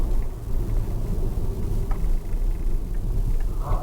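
Ford Focus engine with a misfire, a steady low rumbling drone heard from inside the moving car, loud and close, with no talking.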